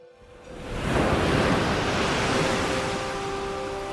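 Ocean surf swells up after a quiet start into a loud, broad wash of breaking waves that holds steady, with a faint low tone running underneath.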